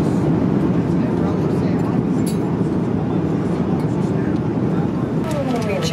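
Airliner landing at Incheon airport, heard from inside the cabin as a steady, loud broadband roar of engines and airflow that fills the whole stretch, with faint voices murmuring underneath.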